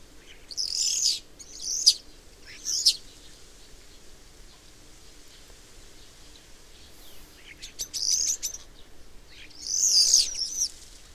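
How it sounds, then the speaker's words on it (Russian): Starlings chatter and screech in a pear tree, several harsh, high chirping bursts coming in clusters from a short distance with quiet gaps between. "Верещат скворцы."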